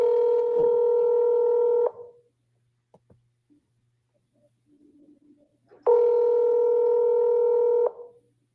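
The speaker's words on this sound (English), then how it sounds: "So here goes the phone call." Telephone keypad tones sound for an outgoing phone call: two sustained steady beeps about two seconds each, separated by a quiet gap holding a few faint clicks.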